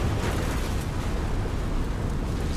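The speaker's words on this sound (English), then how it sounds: "We like explosions." A loud, continuous rumbling explosion effect, a dense low roar with crackling debris that holds steady across the whole stretch without a clear start or end.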